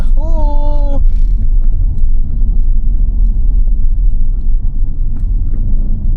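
A motorized tricycle rumbles along on a ride through Calatagan, Batangas, its engine loud and steady close by, with a short voice heard at the start.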